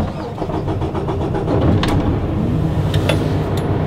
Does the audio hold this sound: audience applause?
no